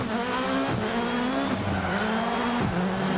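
Rally car from Dirt Rally 2 racing flat out, its engine a steady loud drone with gear changes and brief dips, tires scrabbling underneath, no talk.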